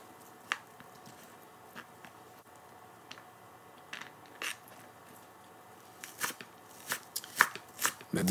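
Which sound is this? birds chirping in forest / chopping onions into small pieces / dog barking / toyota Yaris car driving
chopping onions into small pieces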